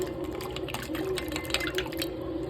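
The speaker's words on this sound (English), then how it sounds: "And then you just keep on rinsing the butter." Homemade butter being rinsed by hand in cold water, with steady splashing, sloshing and dripping close by and no talk.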